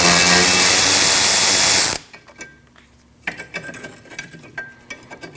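A ratchet loosens a 12mm bolt on the rear lower control arm of a 2003-2008 Subaru Forester, giving close, clicking pawl sounds in short bursts after a loud opening stretch of broad noise.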